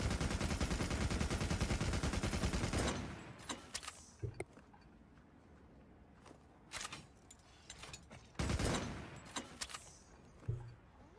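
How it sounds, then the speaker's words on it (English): Heavy machine gun fire in the video game Monster Snorts, opening with a loud, dense sustained burst for about three seconds, then scattered sharp shots and clanks, with another heavy burst later. "So you get a heavy machine gun."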